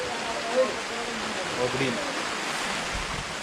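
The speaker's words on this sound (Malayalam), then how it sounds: "ചില്ലറപ്പെട്ട മഴയല്ല, അത്യാവശ്യം ഭീകര അന്തരീക്ഷമാണ്" Heavy rain in Idukki, Kerala pours steadily in a broad continuous roar, with a voice faintly heard talking underneath.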